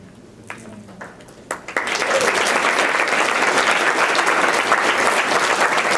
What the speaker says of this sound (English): I know that you've already been applauding